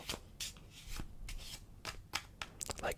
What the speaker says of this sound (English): we will even lose it even more into the packet by giving it a good shuffle